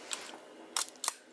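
A Canon IID rangefinder camera shutter fires in short crisp clicks, a faint click first and then two sharper mechanical snaps close together, alone in a quiet room.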